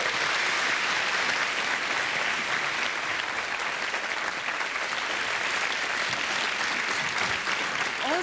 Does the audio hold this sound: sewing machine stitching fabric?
no